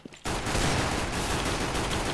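Gunfire in Counter-Strike: Global Offensive on the map Nuke, a sudden dense burst of rapid automatic shots that starts abruptly and continues loud and unbroken for about two seconds.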